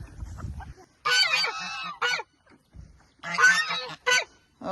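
Geese on a homestead honk in loud, close bursts, two or three harsh calls spaced by short pauses, with a few softer low grunts between them.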